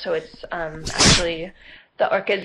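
A single loud, sharp sneeze bursts out between stretches of close conversational speech.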